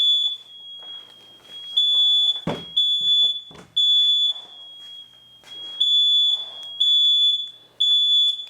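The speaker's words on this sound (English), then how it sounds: "that grinding seemed to have set off the fire alarm, but there's no fire" Smoke detector alarm set off by dust from grinding and sanding with flap discs in a workshop, beeping in steady repeated high-pitched pulses, loud and close, with clanks and handling noises in between.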